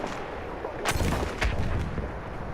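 Mortar fire in the video game Battlefield 1, heard as two or three heavy booming shots spaced about half a second apart over a dense, rumbling battlefield background.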